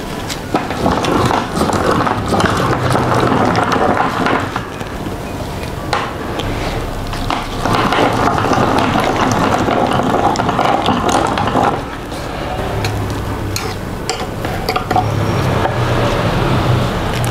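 An electric meat grinder mincing fibrous meat gives a loud, continuous grinding churn with rough clattering and ratcheting textures, the load rising and easing in surges as the mechanism strains.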